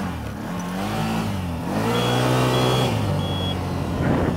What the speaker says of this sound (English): Still got that annoying beeper